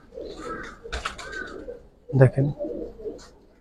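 A female pigeon coos softly nearby while someone talks over it, with a brief louder burst of sound midway.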